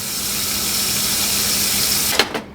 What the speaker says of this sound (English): we're gonna hit that with cold water straight away